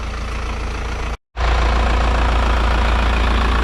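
An Isuzu NPR truck's diesel engine idling steadily up close, a loud low rumble with a brief cut-out of sound before the same even idle resumes.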